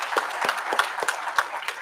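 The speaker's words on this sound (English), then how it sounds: "Can we clap for our panelists?" Scattered audience clapping at a health conference panel in Uganda, individual claps distinct and uneven rather than a thick roar, moderately loud and close.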